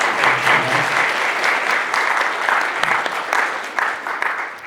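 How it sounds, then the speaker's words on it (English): Sustained applause from an audience, steady and fairly loud throughout, with no one speaking over it. "Another round of applause for our panel."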